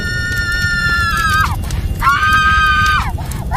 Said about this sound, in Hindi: वह जोर जोर से चीखने लगी